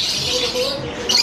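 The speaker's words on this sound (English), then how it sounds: "So I wonder if any of these are singing canaries." Canaries and other caged birds at a pet market chirp in a busy, continuous chatter, with a brighter burst of calls near the end over faint background murmur.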